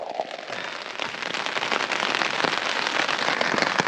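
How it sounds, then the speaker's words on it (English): Rain falls on a canvas shelter over a bushcraft bed in the woods, a close, steady patter of drops drumming on the fabric that builds slightly and keeps going throughout. "waking up to the sound of rain on your top."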